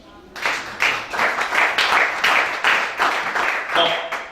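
A church congregation claps together in steady, loud rhythmic applause, a dense wash of many hands during a service, with faint voices mixed beneath the clapping.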